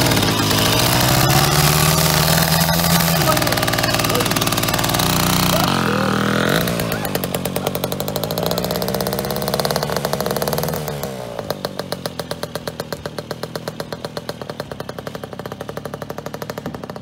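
A Komar 2350 moped's small two-stroke engine revs hard and loud, then drops to a rough, rapidly pulsing idle with a voice faintly underneath.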